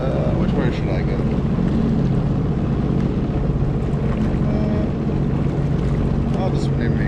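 Sea-Doo personal watercraft running fast on open water near islands, a loud, steady engine roar mixed with wind and water rush throughout.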